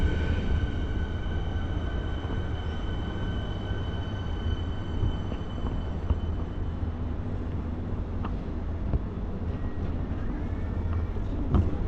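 A suburban train arrives at Chelsea station, giving a continuous low rumble and rolling rail noise at moderate loudness, with faint squeals and clanks building toward the end.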